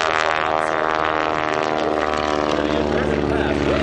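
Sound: aerobatic airplane engine during low pass at airshow

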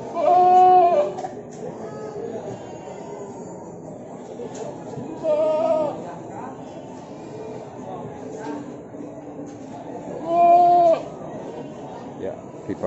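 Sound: goat bleating at livestock market

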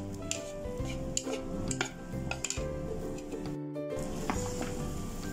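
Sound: stirring cut mango pickle in pan

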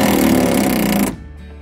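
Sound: impact wrench running on a bus heater bolt

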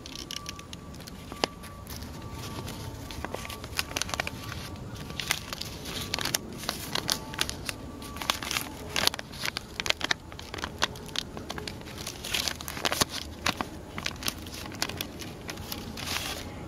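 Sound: crinkling leaves

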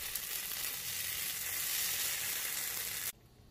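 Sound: sausages with sriracha sauce sizzling as they grill

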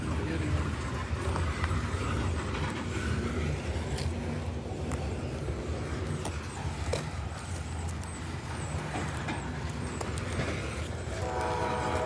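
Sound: freight train horn at a crossing

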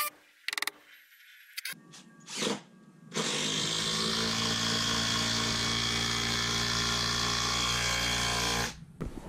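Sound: power tool driving lag bolts into joists

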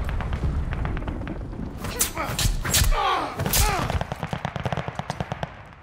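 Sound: glide bomb impact in Call of Duty Vanguard video game

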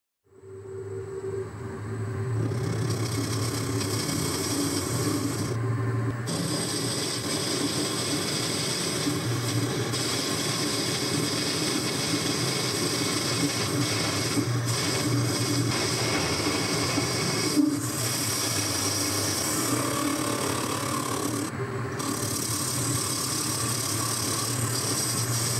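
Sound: lathe turning down a draw bar diameter

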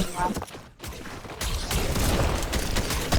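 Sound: gunfire in the video game Fortnite

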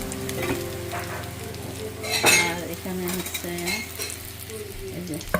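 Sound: fish and shrimp frying

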